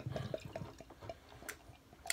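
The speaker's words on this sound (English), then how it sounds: "Let's get it into a glass and see what this baby has to offer" Dogfish Head Indian Brown beer, a 7.2% ABV brown ale, pours into a snifter glass with soft, faint splashing and dripping over a couple of seconds, quiet and close.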